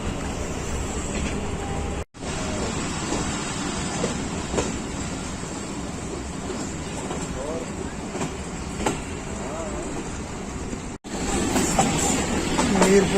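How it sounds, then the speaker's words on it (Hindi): A Pakistan Railways Hazara Express train pulls away from a station stop, its steady low rumble and rolling wheel noise filling the clip with a few faint clacks and a brief cut in the middle. "दमेली के मुकाम पर 35 मिनट रुकने के बाद गाड़ी बिलाखिर रवाना हो रही है आगे।"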